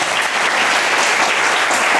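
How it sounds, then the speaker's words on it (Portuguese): A church congregation claps in sustained, dense applause, loud and steady throughout with no voices on top. "Vamos aplaudir esses irmãos."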